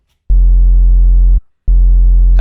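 A low-passed square wave bass synth made in Serum plays two loud sustained notes, a steady buzzy tone with stacked even harmonics, separated by a brief gap.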